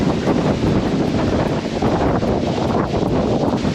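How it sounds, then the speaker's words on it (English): Strong wind buffets the microphone in Puerto Morelos, Mexico, in a loud, constant roar with gusty rumbling throughout. "It is a very windy day today."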